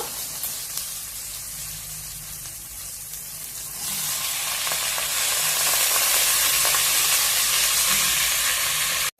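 Brinjal pieces fry in a pan over medium heat for vangi bath, a steady sizzle that swells into a loud, bright hiss about halfway through and holds to the end, with no talking.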